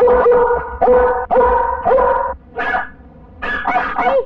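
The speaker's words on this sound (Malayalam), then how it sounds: "പട്ടിയെ പിടിച്ചേ." Dog barking loudly in a Malayalam comedy movie scene, a run of sharp close barks and yips in quick bursts with brief pauses, standing alone without talk.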